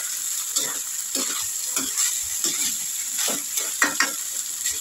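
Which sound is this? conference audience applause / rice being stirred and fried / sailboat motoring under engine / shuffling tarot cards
rice being stirred and fried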